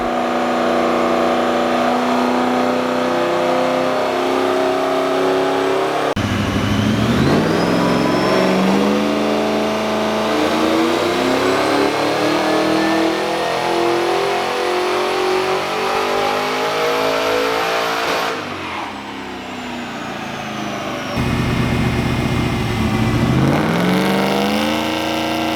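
A supercharged 383 stroker engine in a Holden VY One Tonner revs hard on a dyno, loud and close, climbing through long sweeping pulls with a brief dip and a fresh rise near the end.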